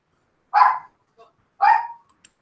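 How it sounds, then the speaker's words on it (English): Two sharp dog barks, a second apart, fairly close and clear against an otherwise quiet room, with a faint small sound between them. "it looks like there's a dog barking"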